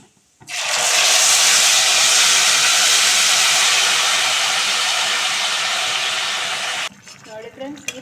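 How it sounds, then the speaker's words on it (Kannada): Bitter gourd and neem leaves fry in oil for hagalakai gojju, giving a loud, steady, broad sizzling hiss for about six seconds before it cuts off abruptly, leaving a few quiet clinks. "ಇದನ್ನು ಸ್ವಲ್ಪ ಎಣ್ಣೆಯಲ್ಲಿ ಫ್ರೈ ಮಾಡ್ಕೊಂಬಿಡಿ"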